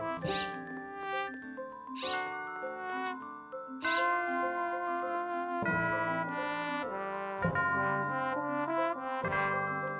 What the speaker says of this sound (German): Ich krieg das Timing mit dieser Glocke da nicht hin.